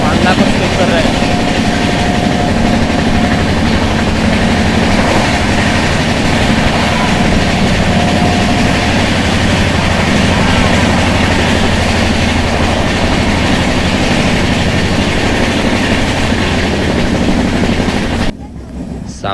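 The 16533 Jodhpur–KSR Bengaluru SF Express running on rails between Marwar and Ahmedabad makes a loud, unbroken rumble with rhythmic clatter throughout, and a voice is heard under the noise.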